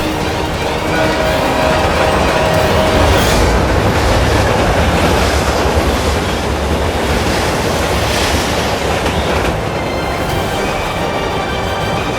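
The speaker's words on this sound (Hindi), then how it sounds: "ट्रेन अपनी तरफ आ रही है।" In a TV show scene, a train comes along the rails as a loud, continuous rumbling roar with broad hiss and steady rail noise, and no voices are heard.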